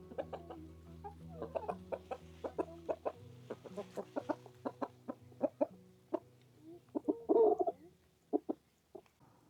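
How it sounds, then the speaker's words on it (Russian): Several chickens cluck close by in short, scattered bursts, with one louder squawk midway and quiet pauses between calls. "Курочки пришли на проверку."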